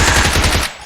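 Rapid automatic gunfire sprays in Battlegrounds Mobile India, a loud dense burst of close shots that cuts off sharply near the end.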